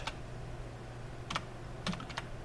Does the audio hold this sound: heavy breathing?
no